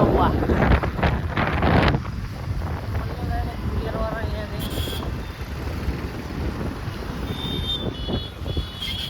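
Heavy wind buffets the microphone during a motorbike ride, a loud continuous rumble with engine drone underneath and faint voices now and then.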